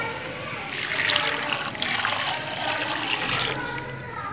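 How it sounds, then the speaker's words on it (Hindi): Water pours steadily into a pan of red lentils (masoor dal) being fried for dhaba-style dal, a continuous hissing splash that rises and settles over a few seconds. "अब हम इसमें पानी ऐड करेंगे।"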